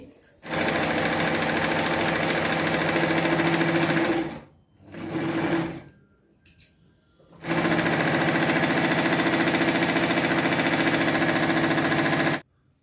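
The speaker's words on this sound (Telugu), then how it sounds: "సింగిల్ ఫోల్డ్ డబుల్ ఫోల్డ్ వేసుకొని ఒక కుట్టు కుట్టేసుకుందామండి" Electric sewing machine stitching a double-folded hem on a kameez: loud, close, rapid mechanical whirring in a long burst, a short pause, a brief run, then another long steady burst before stopping.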